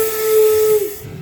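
A single sustained steam whistle blast from the Glenbrook steam locomotive, loud and steady with a hissing edge, cutting off after about a second.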